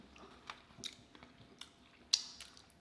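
Crunchy hog cracklins with chewy meat and melting fat being chewed close up, a few soft crunches and wet bites spread irregularly, with one sharper crunch near the end, fairly quiet with no talking.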